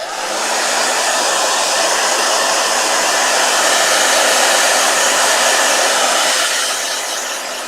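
A blow dryer runs continuously at close range, a loud steady airy whoosh lasting several seconds with no voices over it, used on marker and watercolor paper.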